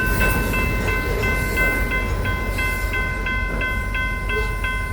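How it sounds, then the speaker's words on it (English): A freight train rolls in on a Kansas rail line, its horn sounding a series of loud, evenly spaced blasts over a constant roar of rolling wagons. "that wasn't a terribly long train coming in"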